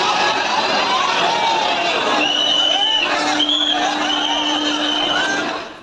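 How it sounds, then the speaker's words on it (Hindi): A dense crowd packs the platforms of Surat railway station, a loud continuous hubbub of many voices with a few sustained whistle-like tones rising over the din. "सूरत रेलवे स्टेशन की तस्वीर आप देख रहे हैं, ये भारी भीड़, जिसे ट्रेन में चढ़ना है"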